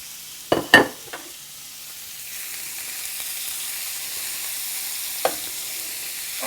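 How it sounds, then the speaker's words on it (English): Partially thawed ground beef with frozen chunks drops into a hot pan, setting off a few loud thuds and clatters before a steady, quieter searing sizzle takes over and continues. "so I'm going to put my ground beef in to the hot pan"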